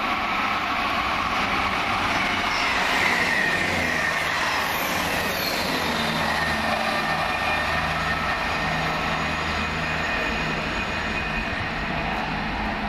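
Train running from London Waterloo to Exeter St David's via Salisbury, heard at Farnborough Main, a continuous loud rumbling roar with engine drone that holds steady for the whole stretch.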